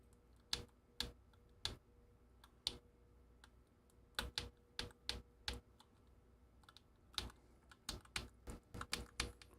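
Buttons on a Roland MC-505 groovebox are pressed one at a time, giving sharp, close, quiet clicks spaced irregularly and sometimes in quick runs, over a faint steady hum with no talk.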